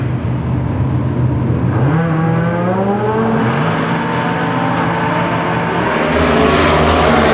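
A Competition Eliminator drag race car at an NHRA national event launches and accelerates hard down the strip, its loud engine note climbing steeply in pitch through the gears before a second roar rises near the end.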